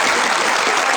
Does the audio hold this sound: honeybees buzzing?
no